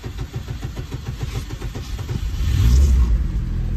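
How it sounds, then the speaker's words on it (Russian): A car engine, freshly started with its immobilizer disabled, cranks in rapid rhythmic pulses then catches and rises into a steady, louder run, close and alone. "иммобилайзер был отключен, поэтому автомобиль завелся"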